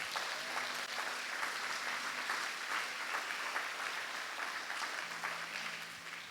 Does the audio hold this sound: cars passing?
no